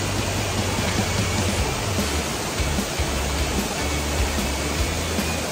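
Asik-Asik curtain waterfall pours in a steady, dense broadband roar, constant and loud with no breaks, water rushing continuously over rock with no voices.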